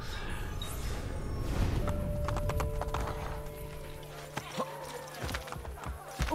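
Horse hooves clop in a steady rhythmic trot in the game Assassin's Creed Brotherhood, with a droning tone and scattered clicks over a low rumble.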